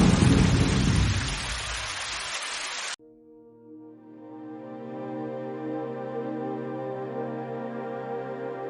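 Heavy village rain pours in a loud broadband rush, then a deep rolling thunder rumble takes over after a sharp cut, lingering with a sustained low tonal drone to the end.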